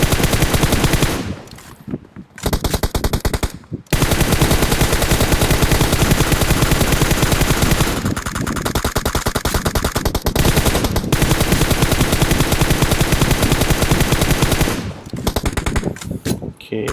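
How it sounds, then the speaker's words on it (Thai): Rapid bursts of automatic gunfire from a shooter video game, loud and nearly continuous with a few short pauses between volleys, and no talk over them. "เสียงยิงปืนและเสียงในเกมนะ"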